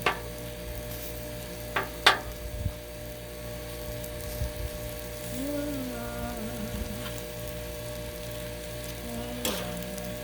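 Shrimp fried rice sizzles and crackles steadily on a hot Blackstone griddle, a constant close hiss broken by a few sharp scraping taps of a spatula, with no one talking.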